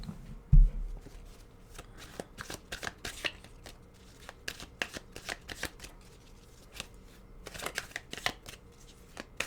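Tarot cards shuffled close by in quick, irregular bursts of crisp riffling and soft slaps, with brief pauses between runs.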